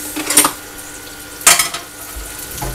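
Sea squirt being heated in a frying pan, with two or three sharp scraping stirs of utensil against pan over a low, faint background, close and without talk.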